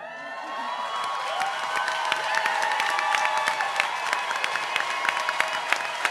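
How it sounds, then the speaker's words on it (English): Audience gives a loud, sustained round of applause with cheering and whistles at a rally for Puerto Rican sovereignty, building steadily and holding throughout. "I want a round of applause"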